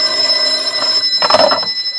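Telephone bell ringing in an old-time radio detective drama, a steady tone with a burst of ring near the middle, fairly loud and alone with no talk.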